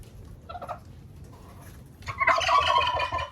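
Turkeys gobbling on a poultry farm, a short faint call early followed by a loud, rapid rattling gobble burst near the end over low background noise.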